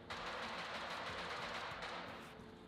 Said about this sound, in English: Is that gunfire over there?